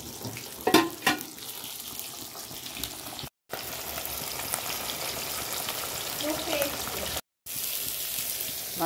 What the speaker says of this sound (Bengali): এখানে পটল ভাজছি